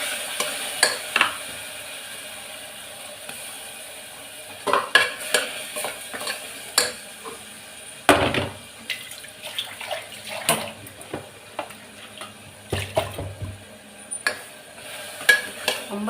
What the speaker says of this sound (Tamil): கூடவே நான் அரைச்சி வச்ச இஞ்சி பூண்டு பச்சை மிளகா சாம்பார் வெங்காயம் அந்த கலவையையும் அந்த மசாலாவையும் போட்டுக்கிறேன்.